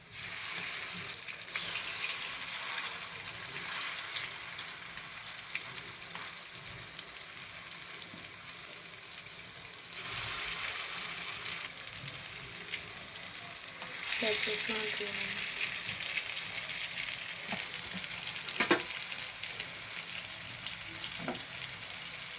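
Chicken kebabs sizzle in oil in a frying pan, a steady, dense hiss that swells louder partway through, with a few faint pops and clinks close by.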